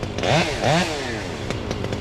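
A chainsaw revs during removal of a tall cottonwood tree, two sharp rising whines early on, then a lower running drone broken by short bursts, fairly close and loud.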